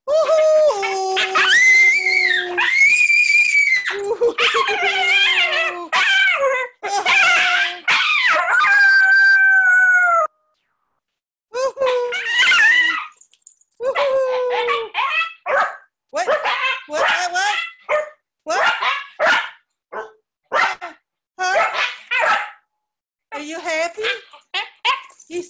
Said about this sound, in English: Coyote.